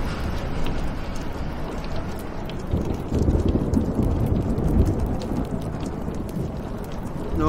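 Heavy thunderstorm rain in the Life is Strange video game, a dense steady downpour with low rumbling thunder swelling midway, loud and continuous with no voices.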